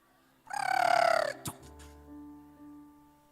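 A brooding hen sitting on her eggs lets out one loud, drawn-out squawking call that breaks off sharply, followed by a brief thump and a softer fading tail, heard alone and close.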